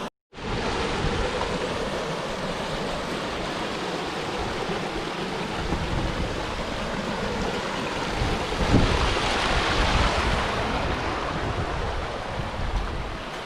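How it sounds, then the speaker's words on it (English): A small waterfall in the Wichita Mountains wilderness, heard as a steady, close, full rush of cascading water that continues unbroken, with no talk. "Nice little cascades here."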